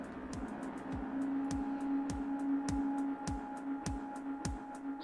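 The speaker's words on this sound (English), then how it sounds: "the sound it makes is quite grainy" A grainy logo sound effect for the horror film Type 2 Bleed plays as a quiet hissing drone with a steady tone, punctuated by regular dropping thumps about every half second.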